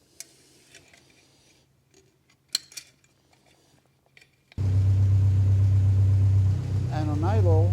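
A car engine idles loud and close with a steady low rumble, brought down after the exhaust's insulated silencers, starting mid-clip after quiet ticking and clinks; a brief rising tonal sweep sounds near the end.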